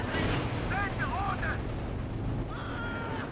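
Long-range artillery barrage from an S-35 in the World War II strategy game Company of Heroes 2, heavy rumbling impacts and distant booms rolling continuously under game effects and faint voices.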